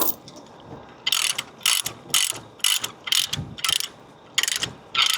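A ratchet strap tightens a load of a welding machine on a delivery truck, with about eight sharp, close ratcheting bursts in an irregular rhythm and brief quiet gaps between pulls.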